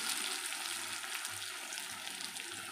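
Potatoes, ginger and tomato fry together with spices in a home kitchen pan. A quiet, continuous sizzle with light stirring runs throughout, and no voices are heard.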